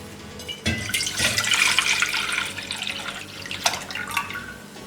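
Four cups of milk pour from a container into a cooking pot for Kashmiri pink tea, a close splashing, gurgling stream lasting a few seconds without speech.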